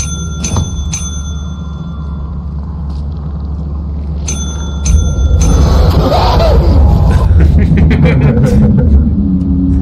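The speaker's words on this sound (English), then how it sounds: "There's a bell." A bell rings twice in the video game Lethal Company, a few bright chimes near the start and again around the middle, over a steady low rumble that thickens into a busier noisy bed toward the end.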